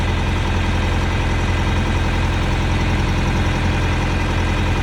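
Truck engine pulling a 2000 Ford Ranger 3.0L backwards on a tow rope, a loud steady low rumble close by with even throbbing and no change in pitch, no voices heard.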